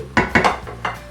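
A spoon stirring prawn biryani in a metal pot, four close, sharp clanks and scrapes in quick, uneven succession, with no one talking.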